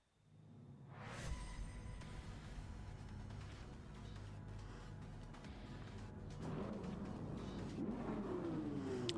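Race cars in Gran Turismo 7 rev and accelerate on track, engine notes rising and shifting through gears, starting from near silence and building into a steady, layered mid-pitched whine that grows louder toward the end.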